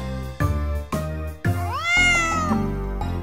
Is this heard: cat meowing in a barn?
yes